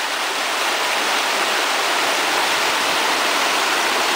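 A stream rushes beside a bridge on a road trip, a loud, steady, dense wash of flowing water with no break and no voices over it.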